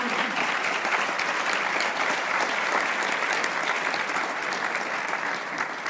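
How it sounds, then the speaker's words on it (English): Steady audience applause during a senator's address to a fraternity gathering, a dense, continuous clatter of many hands filling the room at an even level throughout. "You're clapping"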